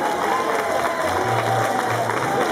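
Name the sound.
audience applauding Jacques at a club trophy ceremony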